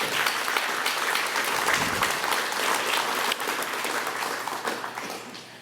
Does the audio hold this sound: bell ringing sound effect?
no